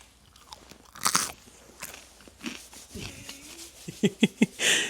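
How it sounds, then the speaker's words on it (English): Crisp crunching bites and chewing on a seasoned bite of food with pineapple, pepper and onion, close and fairly quiet, with a burst of crunches near the end over faint outdoor background. "Here, we'll hear him crunch."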